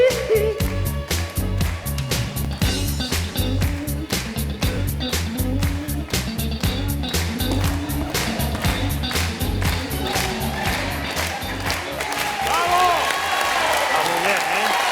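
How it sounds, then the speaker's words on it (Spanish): A theater audience applauds after a singer's tango performance, dense sustained clapping rolling steadily for the whole stretch, loud and close with a faint crowd murmur underneath. "Desde luego que la gente no ha parado de aplaudir ante la actuación"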